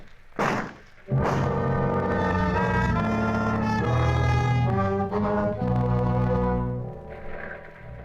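A gunshot effect in a radio crime drama lands as a dull, heavy thud, with a second hit soon after, before swelling orchestral music takes over.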